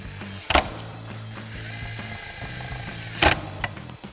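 A ratchet fitted with a 2.5mm Allen socket tightens fog light screws on a Jeep Wrangler JL front bumper, giving a continuous low clicking with two sharp louder clacks, close up and without speech.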